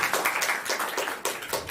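Audience at a standup storytelling show bursts into lively applause, dense rapid clapping filling the room at steady strength throughout the short burst.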